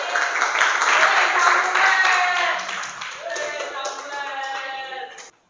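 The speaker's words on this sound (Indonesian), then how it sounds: "Beri aplaus dulu untuk Rija" A classroom of students claps for a classmate, a loud burst of close applause that fades after a couple of seconds while a teacher speaks over it.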